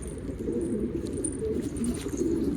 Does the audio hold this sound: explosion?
no